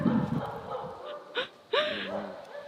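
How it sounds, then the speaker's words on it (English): Two short dog barks from a Dalmatian at about the middle and end, moderately loud and close, following a muffled rumble and under faint background talk. "Is that the midnight bark?"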